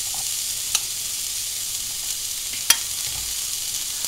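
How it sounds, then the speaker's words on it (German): Half an onion sizzles in hot oil in a pan, a steady bright hiss with a couple of sharp crackles and pops standing out. "Pfanne mit Öl heiß werden lassen und jetzt die Hälfte einer Zwiebel rein"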